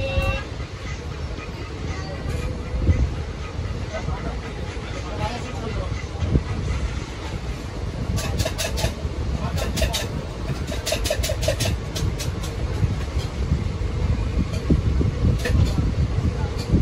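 The 13141 Teesta Torsa Express stands at a station platform, its low engine rumble steady under busy station noise. Short bursts of high-pitched tones and clatter come in from time to time.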